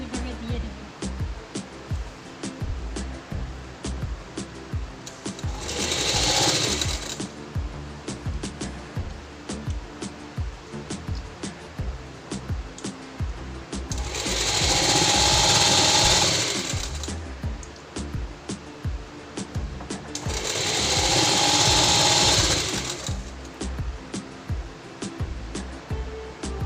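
Sewing machine stitching a kurti in three loud, steady bursts, each several seconds long, separated by quieter stretches of handling and background noise, with a voice speaking in between.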